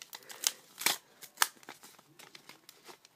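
Booster pack trading cards are shuffled by hand in a few quick, crisp riffling bursts with soft papery crackles between them, near and fairly quiet.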